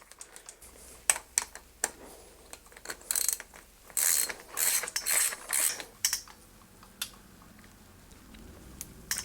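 Rapid ratchet clicks from tightening the top cap on an SR Suntour Raidon 34 bicycle suspension fork, coming in close bursts of metallic ticking, loudest in the middle, with no talk.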